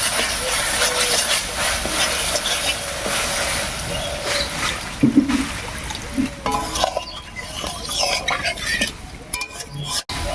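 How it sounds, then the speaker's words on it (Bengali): Water poured into spiced masala frying for a singi fish curry, a busy hiss and bubbling sizzle with scraping and clinks of utensils against the pan that settles toward the end. "এবার এর মধ্যে দেব ঝোলের জন্য জল"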